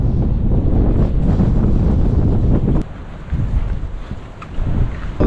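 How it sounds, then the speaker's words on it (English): Strong wind on an exposed coastal hilltop on Fraser Island buffets the microphone in loud, continuous rumbling gusts, easing briefly before picking up again. "It's rough up here, super windy"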